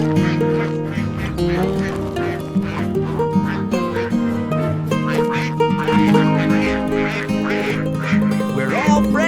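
Cartoon ducks quack repeatedly on an animated farm, bright honking calls riding over a continuous tuneful music bed.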